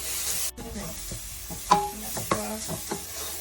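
A garnish mixture, used in a Cameroonian spiced gizzard recipe, is poured into hot oil in a cooking pot, setting off a soft sizzle with stirring clatters and utensil taps close by.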